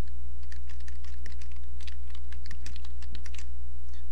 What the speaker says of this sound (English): I type in what I want it to say